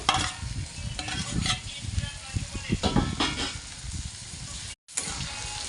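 Corn, tomato and ginger sizzle and fry in a pan for pasta, with a spoon stirring and scraping through steady close frying noise and a brief dropout near the end.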